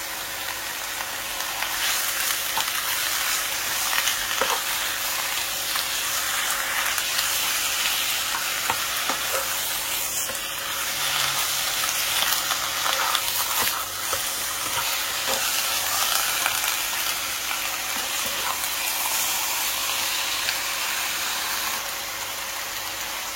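Minced garlic and ginger frying in oil, a constant loud crackling sizzle with occasional stirring taps that runs unbroken and evenly throughout.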